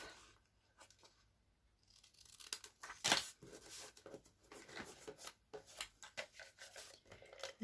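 Scissors snip and trim card paper while making a birthday card, a faint series of soft crisp cuts and paper rustles, with one brief louder crinkle partway through.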